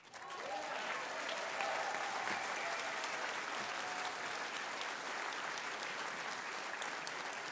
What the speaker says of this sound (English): So I know you may all get tired of clapping